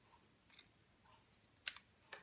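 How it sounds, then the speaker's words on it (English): Snips cut a piece of cardstock in half for a handmade Christmas card, making a few quiet, crisp, separate snipping clicks close by with near silence between them and no talking. "I'm going to cut it in half with my snips"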